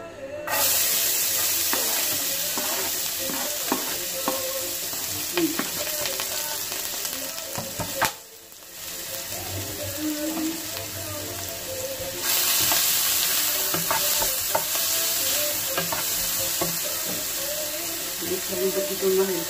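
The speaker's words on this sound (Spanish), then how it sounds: "Y voy a echar la cebolla" Onion and garlic frying in olive oil in a home kitchen, a steady close sizzle with stirring clatter that drops out briefly midway then resumes, with a voice talking at times over it.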